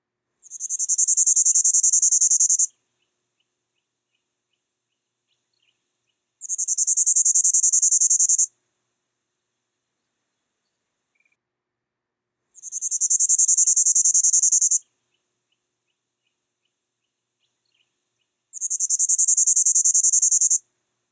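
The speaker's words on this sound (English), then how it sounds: "you can just listen to the calls of these birds" Wild bird calls: four long, loud, buzzy trills, each about two seconds, separated by several seconds of near silence.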